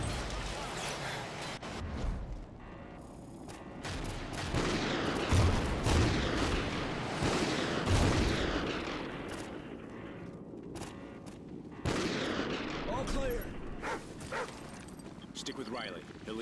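Sniper rifle fire in a Call of Duty: Ghosts campaign battle, with sharp loud cracks scattered among heavy combat noise, explosions and a barking dog, while voices shout over the mix.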